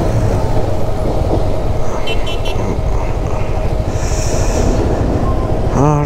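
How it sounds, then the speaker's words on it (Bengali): The Kolkata–Haldibari train passes over the Farakka Barrage with a loud, continuous rumble and rhythmic wheel clatter, a brief squeal near the end, heard from close by. "এখানে এখন ট্রেন যাচ্ছে। এটা হলো কলকাতা হলদিবাড়ি।"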